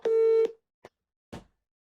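A telephone line gives a short busy tone once a call is cut off, a single steady beep followed by two faint clicks and then silence.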